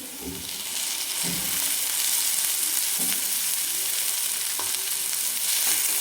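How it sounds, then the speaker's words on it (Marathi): Onion fries in oil in a pan for a village-style spicy egg chutney, a steady broad sizzle that swells after the first second, with a few soft stirring scrapes now and then. "आणि नंतर परत आणखी तेलामध्ये आपण हा कांदा चांगला भाजून घ्यायचा आहे लालसर कलरवर भाजून घेऊ"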